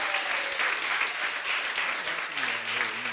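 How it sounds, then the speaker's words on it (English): A church congregation applauding during a Sunday morning service, with sustained clapping throughout, a voice speaking briefly toward the end. "show your appreciation with applause for these people's courage"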